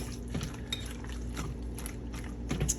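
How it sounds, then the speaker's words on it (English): Potato salad being stirred with a utensil in a bowl, a soft moist scraping and clinking, faint and close, repeating every second or so without talk. "I'm going to keep stirring these taters"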